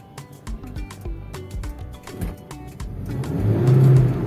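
A car engine runs while driving and a shift into second gear comes through, with a steady mid-pitched hum and a short rev that rises and swells near the end, close and without talk.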